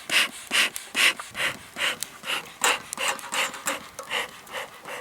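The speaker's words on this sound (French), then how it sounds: "je remets un peu de feuilles de chêne pour maintenir mon enfumoir allumé" A beekeeping smoker's bellows puff rhythmically after oak leaves are packed in to keep it lit, a steady series of breathy whooshes, about two per second, close and fairly loud.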